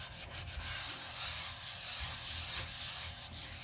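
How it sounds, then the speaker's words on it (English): Rust is scrubbed off the inside of a cast iron pan by hand, producing a continuous harsh scratchy rasp with a few brisk strokes at the start, close up and steady with no talking. "I am just going to scrub off this first layer that I can get off here"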